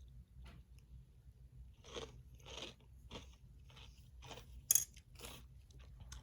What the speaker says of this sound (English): Let me taste it, see how it tastes.